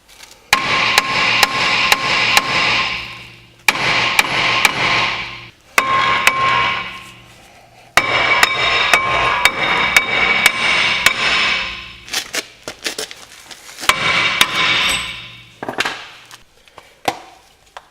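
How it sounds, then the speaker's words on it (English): A rubber mallet hits the back of a front brake disc on a VW Golf Touran again and again. Loud, close blows come in quick runs with short breaks between them, and each one leaves a ringing metallic tone. "use something like a rubber mallet and just whack it on the back"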